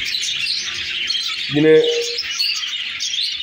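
A Texas budgerigar chick lets out a brief bright chirping call, close and clear over a constant hiss of background noise, with a single word spoken nearby.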